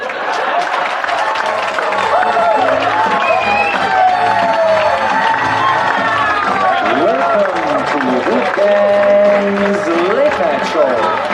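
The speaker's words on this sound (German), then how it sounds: "Empfangt mit mir mit einem donnernden Applaus" Thunderous applause from a live late-night comedy and music show audience, steady and loud throughout, mixed with crowd noise and music.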